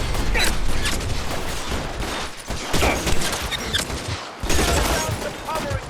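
Video game gunfire from L.A. Noire, a dense fusillade of rapid shots and mechanical clatter that comes in bursts, with a louder barrage near the end and shouting mixed in.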